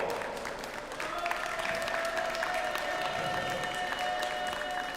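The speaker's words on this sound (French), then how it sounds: "Un tonnerre d'applaudissements également." An audience at Japan Expo breaks into steady, full applause, with crowd noise and a faint held musical tone running beneath the clapping.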